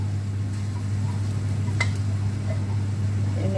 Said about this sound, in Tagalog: Konting gisa lang muna sa dito sa hipon.